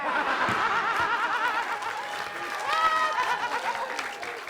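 A studio audience on a comedy TV show applauds steadily, mixed with laughter and chuckles, while voices and playful vocal sounds carry on over the clapping.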